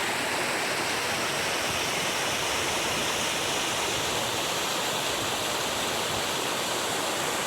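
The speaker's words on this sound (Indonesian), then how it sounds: "jadi kita sedang berada di bawah Curug Tengkorak. Jadi seperti inilah penampakan dari bawah Curug Tengkorak." Curug Tengkorak waterfall roaring from directly below, a steady, dense broadband rush of falling water that fills the whole scene without pause.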